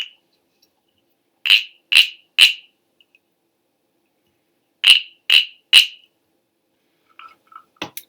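Wooden cricket-shaped percussion instrument scraped to imitate a cricket, two groups of three sharp rasping chirps separated by a pause, close and clear, with faint clicks at the end.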